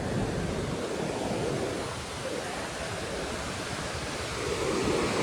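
The Beas river in flood during a storm near Kullu-Manali, a steady broad roar of rushing water that stays loud and close throughout, with no clear voices over it.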